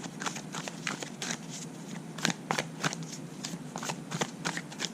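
Tarot cards are shuffled close up in a quick series of crisp riffling bursts and soft slaps, repeating irregularly over several seconds.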